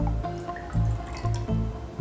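Rice water poured from a cup, with a steady liquid splash and a few brief surges of flow and drips across about two seconds, close and fairly loud with no talking.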